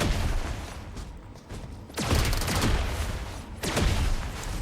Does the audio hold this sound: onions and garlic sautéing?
no